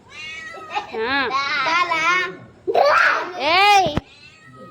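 A cat meows loudly and insistently in a home, several drawn-out wailing calls in close succession, with a person briefly speaking over them.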